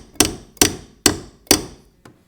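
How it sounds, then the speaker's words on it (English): A steel punch struck with a hammer to drive out a door hinge pin, four sharp metallic taps at a steady rhythm followed by a fainter fifth, close and loud with no talking. "Just put a punch underneath and we just tap it out."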